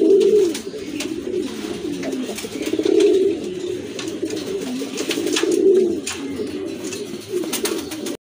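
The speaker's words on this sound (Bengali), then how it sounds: "আরেক জোড়া কবুতর" Pigeons, including red show birds, coo in repeated low, throaty rolling phrases close by, several birds overlapping in a steady loft chorus with soft flutters.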